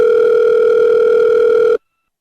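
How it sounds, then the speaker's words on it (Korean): A steady, loud telephone dial tone hums for almost two seconds, then cuts off abruptly into silence. "전화를 한번 해봐야 되겠네."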